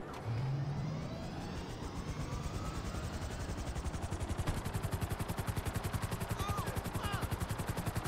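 Helicopter in GTA V with a rapid rotor chop that thickens into a loud, steady pulsing beat over a constant engine drone, close and continuous throughout.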